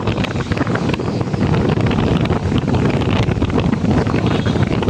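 Big waves roll in at Manila Bay in the aftermath of Typhoon Uwan. Strong gusts rumble loudly and without a break across the microphone, and the surf's wash blends into the blustery roar.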